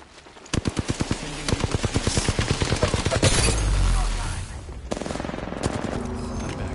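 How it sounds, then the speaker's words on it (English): Rapid bursts of automatic gunfire from enemies in the Apex Legends battle royale on Kings Canyon crack in quick succession, followed by a heavy rumbling blast and then more scattered shots. "The enemies are shooting at me."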